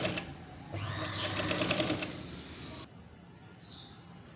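A sewing machine stitches a neck piece onto a suit for about two seconds in a fast, close whirring run, then stops, leaving quiet handling sounds.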